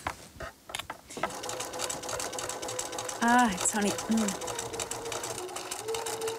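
A sewing machine stitches fabric in a fast, steady mechanical whir with a rapid clatter that runs through the whole stretch, while people talk over it.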